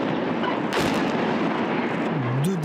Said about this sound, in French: deux détonations pour faire exploser 20 kg de dynamite